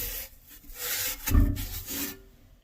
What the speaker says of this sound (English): This is sandpaper, and you can gently like scrape it.